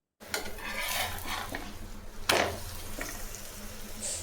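A chapati cooking on a hot pan with a little oil, turned over midway, giving a steady close sizzle and a sharp scraping clatter near the middle, with softer utensil taps around it.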